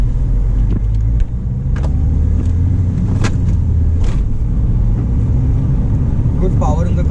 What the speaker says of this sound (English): Good power in the car in the third gear.